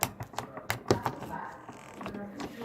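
Stretchy glossy slime being pulled and pressed, giving a string of sharp little clicks and pops, close and fairly loud, thinning into quieter crackles toward the end.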